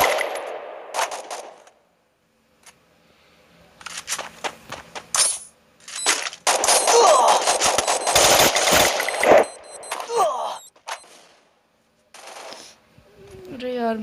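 FAMAS gunfire in the Free Fire Clash Squad mode, with rapid bursts of shots mixed with clinking game effects and loud, dense stretches of firing, while a player talks at intervals.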